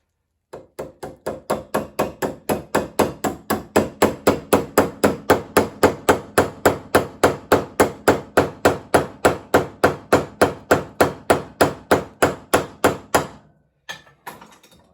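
Rapid, steady hammer blows drive a part onto a Dronsfield Bros D.B. Swallow through a socket, about three strikes per second for some thirteen seconds, close and loud, ending with a couple of lighter taps.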